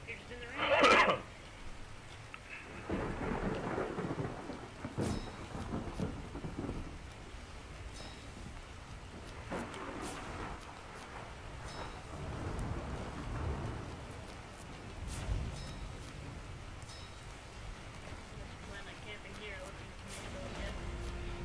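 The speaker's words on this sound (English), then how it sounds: "You're just in the rain." Rain falls steadily in ARK: Survival Evolved with rolling rumbles of thunder rising and fading at intervals, a soft continuous wash in the game's outdoor world.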